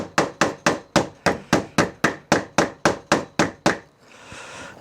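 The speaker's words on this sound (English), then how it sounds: "sometimes it helps to get the ball part of the ball peen hammer in there" Twelve sharp, ringing ball peen hammer blows strike metal in an even, rapid rhythm, close and loud, followed by a brief soft rustle.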